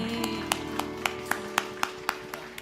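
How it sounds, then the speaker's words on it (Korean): During a church festival worship service, sparse rhythmic claps ring out about twice a second over sustained organ-like chords, more like a steady beat than broad applause. "주님께 영광의 박수를 드리겠습니다."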